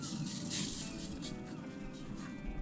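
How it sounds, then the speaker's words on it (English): A few soft, hissing sprays of water from a nearby spray bottle onto ribs on a pellet smoker, short bursts over a low background hum. "Spray it again."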